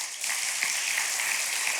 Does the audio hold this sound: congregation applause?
yes